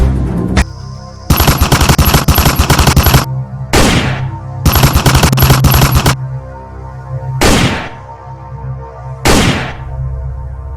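Gunfire in the video game Free Fire: several loud automatic bursts of rapid shots alternating with single heavy blasts, close and dominant, with short quiet gaps between volleys.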